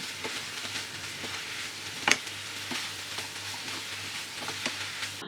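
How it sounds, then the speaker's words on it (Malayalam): A spoon stirring fried chicken pieces through sauce in a pan, a soft steady sizzle with light scraping, one sharp clink near the middle, and no voices. "ചിക്കൻ കഷ്ണങ്ങൾ ചേർത്തതിന് ശേഷം സ്പൂൺ കൊണ്ട് നന്നായിട്ട് മിക്സ് ചെയ്ത് കൊടുക്കാം"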